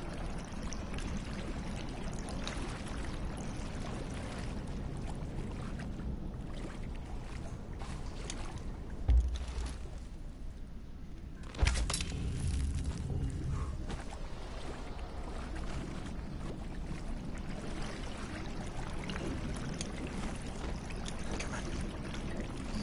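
Water flows and pours continuously in the video game Conan Exiles, a steady rushing wash heard alone and at moderate level, with two brief splashy thumps partway through.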